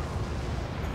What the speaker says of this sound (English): Big artillery bombardment.